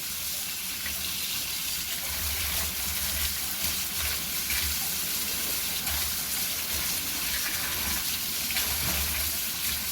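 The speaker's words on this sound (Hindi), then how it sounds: "इसे खुले पानी में अच्छे से वॉश करेंगे।" Boiled bones are rinsed under running tap water, a steady gushing and splashing stream running alone at close range throughout.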